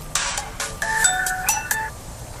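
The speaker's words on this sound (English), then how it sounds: "My phone is ringing." A mobile phone ringtone plays close by outdoors among rose gardens, a short bright electronic melody of rising and falling tones standing alone with no talk.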